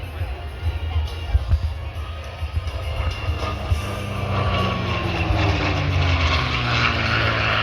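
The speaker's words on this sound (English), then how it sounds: "Here is the fighter, the sound of freedom from the left." A P-51C Mustang fighter plane passes at an airshow, its propeller engine droning and swelling louder with a shifting pitch as it nears, over crowd murmur and a brief voice early on.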